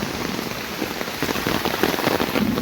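Steady rain falls outdoors along a grassy Konkan path, a close, even patter of drops hitting surfaces with no voices.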